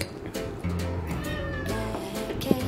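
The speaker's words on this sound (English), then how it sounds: "And you can hear her getting excited because she loves wet food." A cat meows excitedly while waiting for wet food, several close, insistent meows in quick succession over a quiet background of kitchen sounds.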